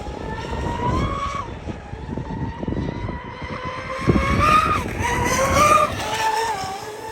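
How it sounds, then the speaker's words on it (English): The MTC Decepticon powerboat's motors roar up close as it carries speed through a turn, a loud buzzing drone whose pitch slides down and rises again, with water and wind noise churning underneath. "listen to the sound of the motors in a turn"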